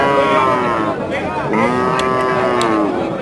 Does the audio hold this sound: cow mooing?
yes